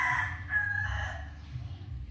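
A five-month-old McLean x blue cross gamefowl rooster gives a single short crow, moderately close and fairly faint, with a low background rumble underneath.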